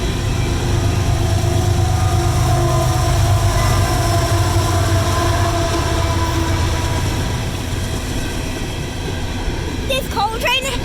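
A four-engine coal train rumbles past at close range, a loud, steady roar of wheels and cars that runs through the whole clip, easing slightly near the end as faint voices come in.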